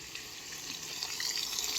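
Water runs from a hose into a tank in a steady, close, rushing stream that swells slightly in loudness as it continues.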